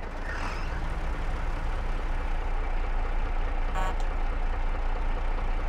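The diesel engine of a Kramer KL714 all-wheel-drive tractor in Farming Simulator 22 runs steadily with a low rumbling idle, a brief hiss partway through, no talk.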